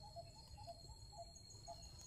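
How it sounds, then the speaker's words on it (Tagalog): A bird calls outdoors with a short, faint chirp repeated every half second or so against a quiet, steady background. "Narinig akong tunog ng ibon."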